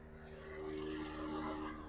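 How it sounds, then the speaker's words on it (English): A distant airplane passes overhead outdoors, a faint, broad engine drone that swells gradually and holds steady in the background, with no one talking. "Sorry about the plane passing by."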